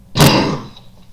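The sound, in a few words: cough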